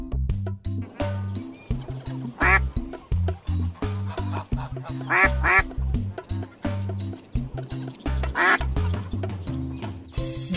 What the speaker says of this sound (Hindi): ब से बत्तख।